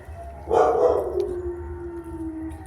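Max the dog, reacting to DJ music playing somewhere nearby, gives a single loud bark that trails into a long, drawn-out whine or howl, close and alone against a quiet background hum.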